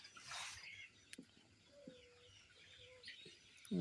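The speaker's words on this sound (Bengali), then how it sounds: "মুরগি ধরা হয়ে যাচ্ছে" Chickens give a few faint clucks and short calls while being caught, with scattered rustling and a bump or two, heard quietly from close by.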